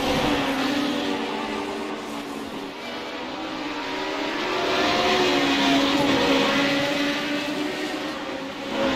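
Radical SR8 race cars lap Watkins Glen in close company, a steady loud engine drone whose pitch rises and falls as several cars run nose to tail.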